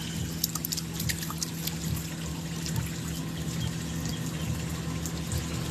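Water pours steadily into a basin to dissolve salt for a salt bath, a continuous splashing trickle with a low hum underneath and no talking.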